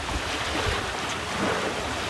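Wind gusts building over open water, heard from aboard a boat, a steady broadband rush of wind noise with wash from the waves, unbroken and fairly loud throughout.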